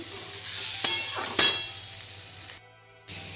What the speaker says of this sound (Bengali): এখানে আলু বরবটি ভাজা হচ্ছে